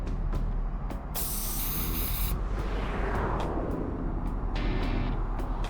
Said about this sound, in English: they just jump through the little holes via the spray paint